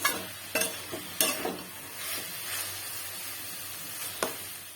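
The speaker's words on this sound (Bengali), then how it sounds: "ভালো করে নেড়ে নিচ্ছি একটা খুব সুন্দর একটা গন্ধ আসছে ভাজা" Pumpkin greens for a vegetarian sesame-and-poppy-seed dish are stirred and fried in a pan, with a steady close sizzle and sharp spatula scrapes every second or so over about five seconds. No one speaks.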